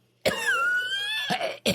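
A voice imitating a cough coming from a bush, one drawn-out raspy cough followed by two shorter coughs, close and clear against silence.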